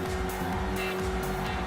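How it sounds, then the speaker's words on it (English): A race car engine in Gran Turismo 5 runs at high revs with a steady, loud, close tone and a dense droning whine, holding strong through the short burst. "just from listening to this car engine, if you guys can hear this, this car is going a lot faster now"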